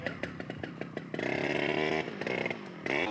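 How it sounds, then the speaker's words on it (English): A chainsaw runs out along a forest road in British Columbia, first in short choppy bursts and then in a sustained, high, buzzing whine that revs up and down. "that's the sound of a chainsaw"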